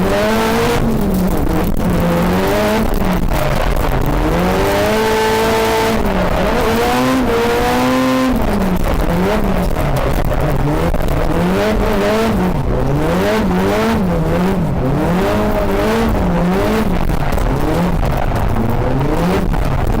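Onboard a Nissan S13 drift car during a run, the engine roars loud and continuous, with revs rising and falling in repeated sweeps and tire noise beneath it.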